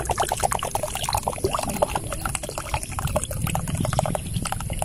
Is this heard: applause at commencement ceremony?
no